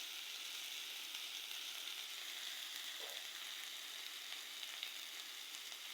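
Food frying slowly in a pan for a dish of rooftop-grown Malabar spinach with potatoes, a steady, soft, even sizzle that stays at one level throughout with no talking.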